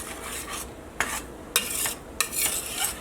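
A spoon stirs butter, sugar, milk and cocoa powder in a pot over medium heat, making a close, loud rhythmic scraping with repeated bright swishes and knocks against the pot's sides, with no talking.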